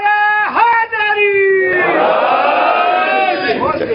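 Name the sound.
audience shouting the Haidari slogan in response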